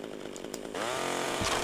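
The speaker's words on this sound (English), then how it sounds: "grab our chainsaw" A chainsaw in GTA Vice City Stories on PS2 starts with a short sputter, then revs to a loud, steady buzzing drone with a surge near the end, up close and with no talk over it.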